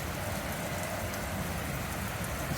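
Heavy rain pouring down during a rainy Fourth of July, a dense, steady hiss of downpour on surfaces, loud and unbroken throughout with no voices.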